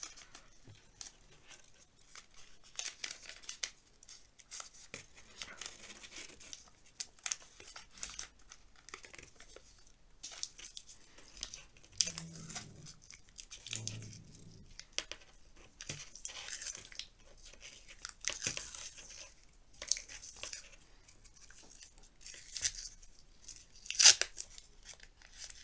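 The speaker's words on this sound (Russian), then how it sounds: "Нам нужно бумажным скотчем полностью обмотать проволочный каркас" Paper masking tape being torn and wrapped around a wire armature frame for a sculpture, a long run of scattered crinkling, tearing and rustling at close range, with no voices.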